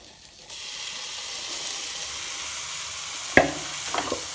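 Food dropped into a hot kadai bursts into a steady, fairly loud sizzle, followed by a few sharp clinks of the utensil.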